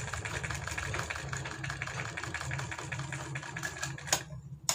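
A sewing machine stitches a collar onto a warm kurti, running with a steady close rapid clatter and hum that continues without a break, ending with a couple of sharp clicks.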